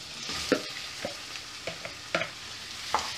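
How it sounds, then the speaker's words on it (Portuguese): Cubed chicken pieces sizzle softly in hot oil in a pan, with faint crackling and several light clacks of a utensil stirring against the pan. "Agora vou fritar o frango aqui"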